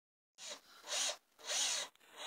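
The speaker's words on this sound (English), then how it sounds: "So we're drilling screws in the top of the door so we can hang a blanket over the doorway" Power drill driving screws into the top of a door in a 1987 mobile home, two sustained whirring bursts close by with a short gap between them, then a brief start of a third.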